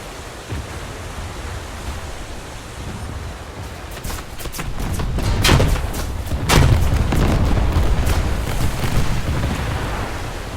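Heavy naval artillery booms out in a torpedo boat warship battle game, several deep blasts rolling over a constant roar of ocean and engine noise that swells louder in the second half.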